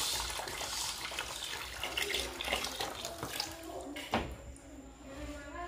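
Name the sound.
water draining out of an aquarium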